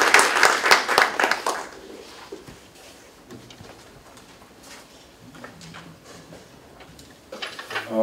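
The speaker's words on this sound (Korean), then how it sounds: "큰 박수로 부탁드립니다." An audience at a public policy debate forum in Daegu claps loudly at first, the applause then thinning into scattered claps before swelling briefly again at the end.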